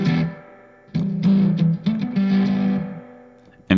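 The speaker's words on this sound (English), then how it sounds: "So it's a spring reverb." Distorted electric guitar through a Silver Llama or Twin Panda amp plugin from Safari Pedals with spring reverb, choppy phrases of chords and notes with short gaps, a splashy reverb tail trailing after each burst.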